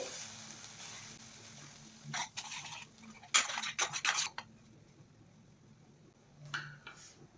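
Utensil scrapes and clinks in a pan as ground masala paste is stirred and fried in oil, a few short bursts of stirring against a quiet kitchen background.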